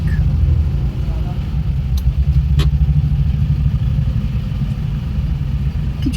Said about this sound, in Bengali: এখনো সামনে দেখতে পাচ্ছি বিরাট জ্যাম হচ্ছে সিচুয়েশন লাইন দিয়ে পরপর গাড়ি আর বাইক